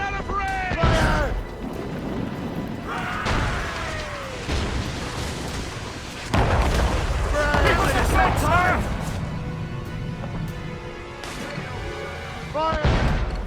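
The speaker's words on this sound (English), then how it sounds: "They're firing mortars!" Ships fire mortars during a naval battle in Assassin's Creed Rogue, with heavy booming blasts and crashes that recur irregularly under shouted voices.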